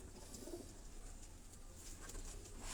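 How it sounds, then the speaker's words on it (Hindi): A Teddy breed pigeon held in a handler's hand gives soft, low cooing, faint and close, with a steady background hiss. "ये भी टैडी नस्ल का कबूतर जो आपको डॉक्टर शाहिद साहब के हाथ में आप देख रहे हैं दोस्तों।"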